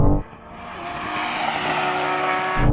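A Porsche 911 GT3 or BMW M4 CSL accelerates hard in second gear from a 40 mph roll-on, its engine note rising in a loud, sustained roar that swells steadily for over two seconds before cutting off sharply.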